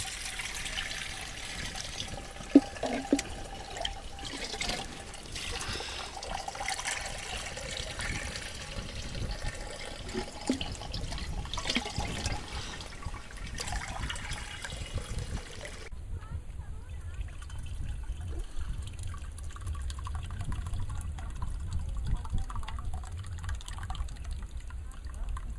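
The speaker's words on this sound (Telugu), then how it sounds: "పల్చటి గుడ్డ తీసుకొని కుండ పైన పెట్టి వడబోయాలి." Liquid strains through a thin cloth draped over a clay pot, a steady trickling pour running throughout with soft splashing and faint background voices.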